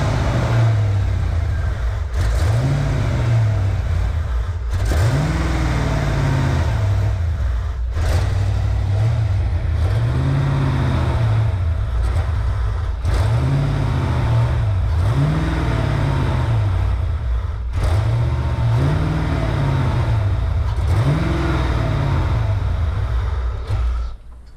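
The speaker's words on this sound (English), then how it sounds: "We're going to start the car up right now, just check, make sure nothing crazy is happening" A Ford Mustang Foxbody's engine idles loud and steady in a garage after an in-car oil pan gasket change, its low rumble rising in repeated rhythmic revs every couple of seconds.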